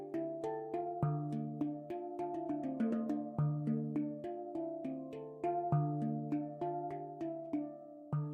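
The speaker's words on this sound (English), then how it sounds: "That's the sound of a handpan" Handpan played solo in a melodic instrumental piece, steady resonant metallic tones ringing out with sustained overtones, struck in a flowing rhythm with a deep low note recurring every few beats.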